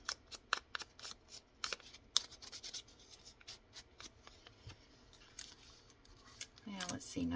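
Paper edges are torn by hand for handmade ephemera: a series of quiet, close, crisp ripping and rustling bursts in uneven rhythm, with a faint voice near the end.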